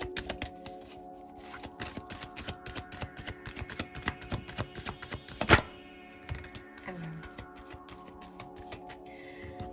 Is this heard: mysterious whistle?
no